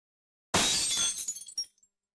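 A single AI-generated glass breaking effect: one sharp, loud smash of shattering glass followed by a brief scatter of tinkling shards settling, then silence.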